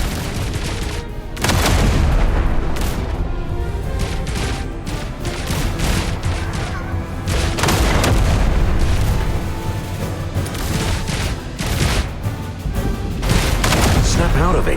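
Gunfire in the video game Duet Night Abyss: loud, rapid bursts of shots and heavy booms come in dense volleys, one after another, close and relentless.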